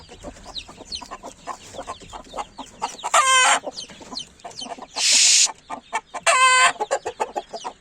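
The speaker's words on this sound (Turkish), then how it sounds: "Çok yaygaracı bir horoz." Chickens cluck continuously nearby while a rooster lets out several loud, raspy crows and squawks in separate bursts.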